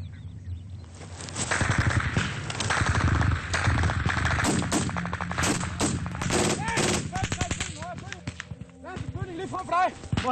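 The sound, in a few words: gunfire, soldiers shooting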